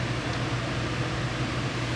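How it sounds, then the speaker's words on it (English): Steady electric fan hum with a low drone and broadband whoosh, running continuously in a hot Arizona room, close and even throughout with no voices. "Sorry about the fan."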